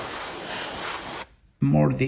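Airbrush spraying paint onto a 3D printed figure, a steady close broadband hiss for over a second, then cutting off briefly before a voice begins talking.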